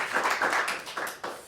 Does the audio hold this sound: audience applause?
yes